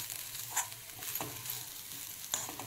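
Grated coconut being stirred and roasted in an iron wok for fried modak, giving a soft steady sizzle with a few scraping strokes of the spoon, close and fairly quiet with no talking.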